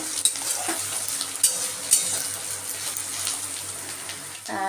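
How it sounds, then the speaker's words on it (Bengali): Grated coconut and green chilies fry in a pan with a steady, close hiss of sizzling oil, broken by a few sharp scrapes or taps of a utensil. "নারকেল আর কাঁচা লঙ্কাটা দিয়ে ভালো করে ভেজে নেব"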